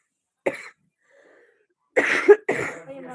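A person coughing at a live Awadhi folk song gathering, one short cough followed after a pause by two louder, harsher coughs in quick succession, close and clear against quiet.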